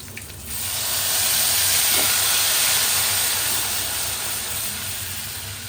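Chillies and leaves crackling in hot oil for a kadhi tempering, a loud broad hissing sizzle that swells quickly and holds steady, tapering slightly at the end.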